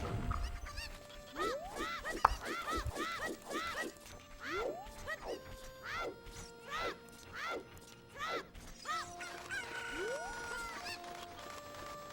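Chickens from The Legend of Zelda: Ocarina of Time cluck in a rapid run of rising squawks, then give scattered calls and a couple of crow-like cries, fairly loud over game sounds and a busy background.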